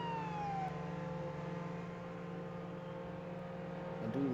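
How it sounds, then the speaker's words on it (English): A police siren in the Roblox Jailbreak video game, a continuous wailing tone over a steady engine hum, fairly faint and heard alone with no talk. "I do love hearing a siren."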